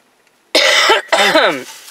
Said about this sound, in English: I'm coughing because I have a cold that I caught on a plane